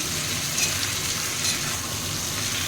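Two kinds of potatoes, regular and a root variety, fry in a pan with a dense, even hiss of sizzling oil, close and steady throughout with no talking.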